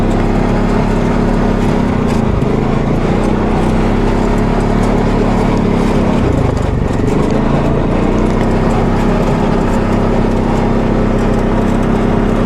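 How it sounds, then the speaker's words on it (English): Continuous Polaris Ace 570 off-road engine drone with rattling and clunking from the shocks and bushings as the vehicle climbs a steep slope, loud and close throughout, no voices. "you can probably hear the shocks and bushings"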